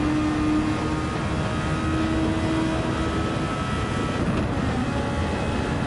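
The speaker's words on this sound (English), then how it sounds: "Engine pretty loud." Racing engines at a DRL Formula Super League race at Suzuka make a loud, continuous, steady drone that fills the whole stretch without breaks.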